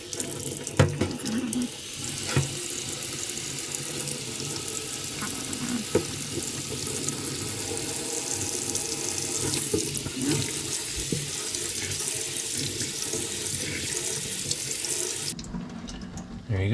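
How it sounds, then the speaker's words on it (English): A steady stream of running water rinses parts from a 2001 Honda CR250 motorcycle during its teardown, a loud, continuous splashing rush that holds for about fifteen seconds before cutting off. "we're going to go ahead and just rinse this off"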